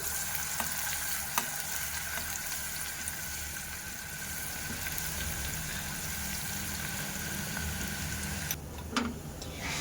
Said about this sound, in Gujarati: 1/4 ટીસ્પૂન હિંગ અને જે આપણા આદુ મરચાં અને લસણ હતા તેને ઉમેરી દઈશું